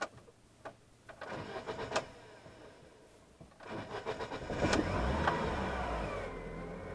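Chery Jaggi car with idle drop when braking: a few faint clicks and a short cranking burst, then the engine catches with a sharp start and settles into a steady, louder idle hum.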